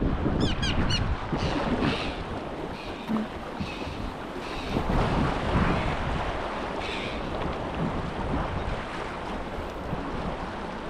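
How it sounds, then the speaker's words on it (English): A fast-flowing river roars continuously, heard from a canoe, with strong wind buffeting the microphone, a loud, turbulent flow with no voices. "Water's moving real quick through there."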